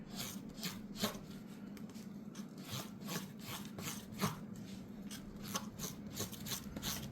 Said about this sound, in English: I want to mix it all till it's a lighter, well, a bluer gray or blue, or you want to get all the hardener mixed in.